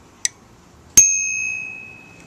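Bell on a motorized bicycle rung twice: a short faint tap, then one clear bright ding that rings on and slowly fades, close by with no talk.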